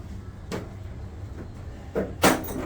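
An interior door shutting under a Design Hardware 416 door closer, with soft mechanical bumps early on and a firmer latching thud near the end, close and moderately loud against a low room hum.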